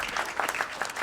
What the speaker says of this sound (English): Let's give a round of applause to them as well.